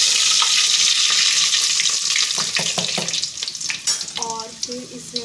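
Fenugreek seeds and curry leaves hit hot oil in a home kitchen pot, giving a steady close sizzle and spatter that runs throughout, with brief stirring clinks and a faint running-tap sound near the end.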